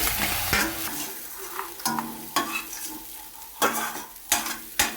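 Onions or masala for paneer butter masala sizzle and fry in a pan while a utensil stirs and scrapes in irregular bursts, with no talking.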